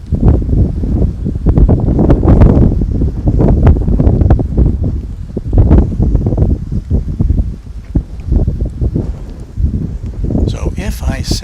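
Strong gusting wind buffets an outdoor microphone set low to the ground at an airport, giving loud, rumbling low-end roars that rise and fall continuously throughout.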